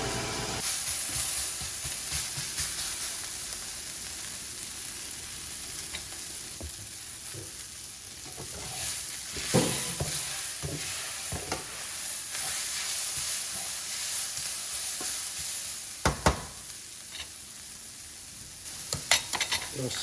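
A filet mignon steak fries in an oiled pan, giving a steady, close hissing sizzle that runs throughout with a few sharp pops and crackles and no talking.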